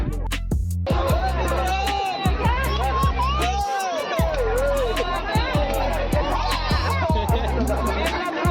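A dense crowd of bathers at Pendri pond in Lormi keeps up a steady, loud hubbub of overlapping chatter and shouts, with occasional laughter and children's voices rising out of the babble.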